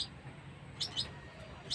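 Small pet bird being hand-fed gives a few short, high chirps, sparse and close, over a quiet low background hum.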